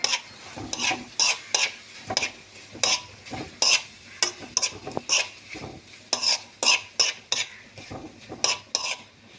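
Prawns stirred and sautéed in a pan for an Alappuzha-style prawn roast, with repeated sharp scrapes of a spoon against the pan and a soft sizzle in between, close and steady with no talking.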